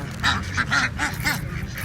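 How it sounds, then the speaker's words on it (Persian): Large-breed ducks at Karachi Safari Park give a run of four or five loud, close quacks in quick succession, with a steady low background hum beneath. "اونوش کلان نسلی مرغاویه"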